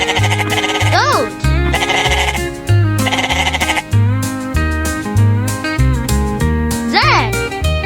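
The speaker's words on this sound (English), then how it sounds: "Goat." A goat bleat from a children's barnyard-animal song, with wavering cries rising over a steady backing beat and music throughout, repeated a couple of times.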